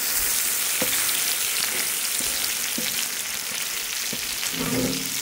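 Chicken pieces, mushrooms and onions frying in a pan for chicken sauté, a loud constant hiss of sizzling fat with occasional soft scrapes and knocks of a utensil, close up and no voices.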